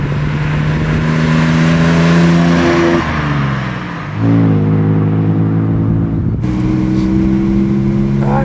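Close, throaty engine drone from a 1958 Lancia Aurelia B20 S GT sports car on the move, rising and falling in pitch as it shifts gears, with a brief dip in the middle.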